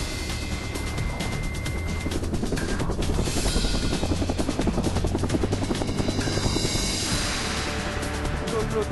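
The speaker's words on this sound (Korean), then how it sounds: "변경된 장소로 헬기 진입을 시도한다." A cargo helicopter approaches a mountain site with a loud, continuous rotor chop and turbine roar that swells and stays close for the whole stretch.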